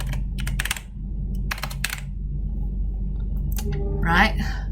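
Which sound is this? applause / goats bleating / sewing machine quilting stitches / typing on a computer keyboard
typing on a computer keyboard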